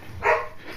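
A small puppy lets out one short, high yip close by, a single brief burst over faint room noise with no talking.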